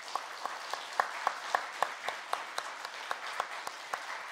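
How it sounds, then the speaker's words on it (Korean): A church congregation claps in slow unison during a farewell gift presentation, about two beats per second in a steady rhythm, quiet and somewhat distant, with the room's murmur between beats. "그 섬김에 감사하여 이 시간 재정부장 장로님 나오셔서 전별금을 전달할 때 우리 박수로 함께 하도록 하겠습니다."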